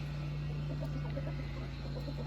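A chicken clucks softly in a farmyard with geese nearby, a few short low calls over a constant steady background hum.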